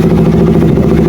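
A KTM Duke 200 motorcycle engine with a freshly rewound stator runs loud and close, a steady, throbbing idle with a fast even pulse and no talk over it.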